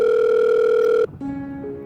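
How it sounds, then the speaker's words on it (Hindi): A steady two-tone phone ringback plays alone, loud and close, as a call rings through to a number; the tone pauses briefly partway, then resumes at a lower pitch. "मैंने उसके नंबर पर कॉल की। बेल जा रही थी"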